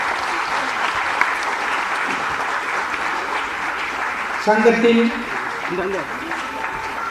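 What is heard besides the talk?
audience applauding Sudheesh at a Delhi Tamil Sangam event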